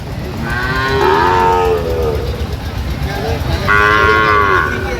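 Cattle moo loudly at close range at a livestock market in Dhaka, two long bellowing calls separated by a pause, over a steady crowd murmur and background noise.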